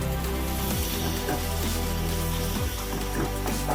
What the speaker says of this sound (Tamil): சேர்த்து எல்லாம் நல்லா வதக்கி விடுங்க.